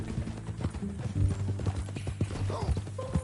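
Horse hooves clip-clopping in Red Dead Redemption 2, a brisk, fairly close run of irregular knocks with quiet game voices talking around them.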